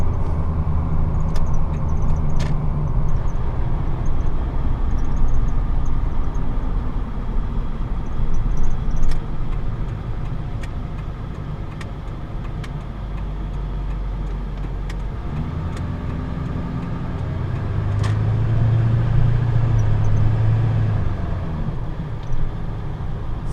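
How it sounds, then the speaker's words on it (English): A Ford F250 pickup truck with a 7.3 diesel engine rumbles steadily while driving, its low drone rising and falling as it accelerates, with faint road noise throughout. "Truck really gets up and goes."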